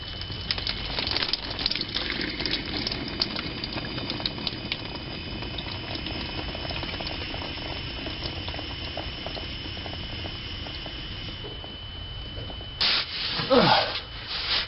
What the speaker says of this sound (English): I'm going to go up to the end of the fuel hose and blow into it, and that should hopefully drain all the gas out of this line.